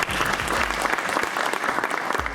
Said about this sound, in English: Round of applause for Camille.